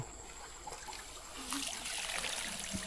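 Water trickling and splashing in a village well in rural Laos, a continuous soft wash of dribbling water that grows a little louder midway, close with faint background hiss.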